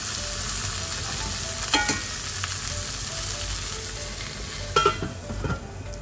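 Food fries in a pan while a lunch box is being prepared, a continuous sizzle with occasional clatter and stirring bumps, close and steady with no talking.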